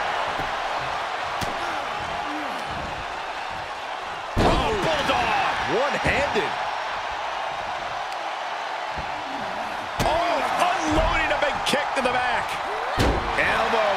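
Heavy body slams and impacts from a video game wrestling match, thudding over a steady roaring crowd, with a louder hit partway through.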